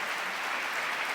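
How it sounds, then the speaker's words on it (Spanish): A church congregation applauding during a Spanish-language sermon, a brief, dense wash of clapping held at an even level with no voices standing out. "Dele fuerte el aplauso al Señor."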